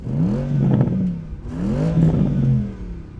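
A Porsche Panamera engine revs up twice in smooth swells, a steady mid-pitched roar rising and easing back, moderately loud and nearby.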